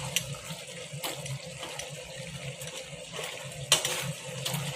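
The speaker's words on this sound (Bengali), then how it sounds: "আলুগুলো গলিয়ে দেবো হাতা দিয়ে।" Potatoes being mashed with a ladle in a pot of simmering curry with banana stem, jackfruit seeds and hilsa fish head, giving soft wet stirring and scraping sounds with a few sharper clinks of the ladle against the pot.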